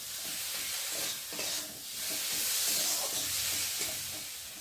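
Spice paste stirred and fried in hot oil in a pan for fish curry, a steady loud sizzle with scraping stir strokes throughout, close up and with no talk.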